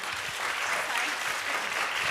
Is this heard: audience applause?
yes